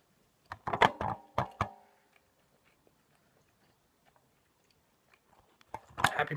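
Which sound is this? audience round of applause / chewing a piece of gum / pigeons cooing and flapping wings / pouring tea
chewing a piece of gum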